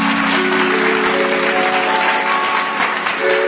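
An audience at a stage show claps loudly and continuously to welcome a singer onto the stage. The applause is dense and even, with no voices over it.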